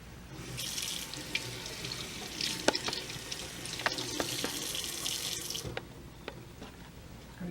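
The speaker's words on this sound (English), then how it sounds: "you can just wash this and throw that in" Vegetables washed under a running kitchen tap: a continuous rushing stream of water with splashes and clatter as the produce is handled in the sink.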